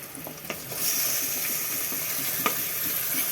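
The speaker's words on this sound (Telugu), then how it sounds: "ఇప్పుడు మటన్ వేస్తున్నాం" Mutton pieces going into hot oil with fried onions and green chillies, a steady bright sizzle that swells after a soft clatter and holds evenly, close, with a couple of light knocks and no talking.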